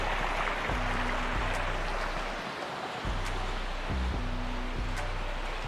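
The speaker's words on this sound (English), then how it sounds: "Got the waterfall coming in off the wall there." A waterfall pours off a wall into a pool at a luxury home in Las Vegas, making a steady broadband rush that continues throughout. Faint low thumps and hums sit underneath it, and there is no talking.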